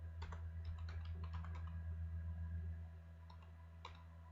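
Computer keyboard typing while a Google Form is filled in: a quick run of close, light key clicks that thins to a few scattered presses, over a steady low hum.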